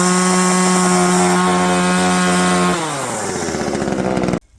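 A VEVOR 12-inch 25.4cc gas chainsaw runs at a loud, steady high-rev whine, then its pitch drops partway through as the engine eases off, before cutting out abruptly near the end.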